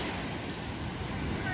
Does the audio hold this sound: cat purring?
no